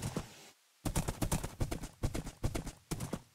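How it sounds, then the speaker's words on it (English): Horse hooves clip-clop in a steady, fairly loud rhythm in a Minecraft-style multiplayer survival game, starting after a brief pause and continuing as a quick series of clattering steps. "I'll just take my horse with me."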